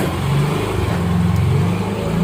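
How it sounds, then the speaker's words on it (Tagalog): A motorcycle passing on the road, with a steady, close engine drone that holds for a couple of seconds and no talk over it. "May, maya may mga dumadaang motor."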